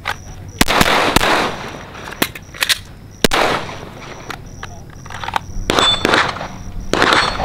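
Reloading and firing a Radian Ramjet rifle at an outdoor range, sharp loud gunshots, some singly and some in quick strings, separated by pauses with metallic reload clicks and clacks, close by.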